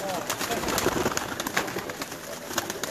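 Pigeons coo softly and repeatedly in a pigeon loft, a steady murmur of calls close by, with faint background noise and a voice talking at times.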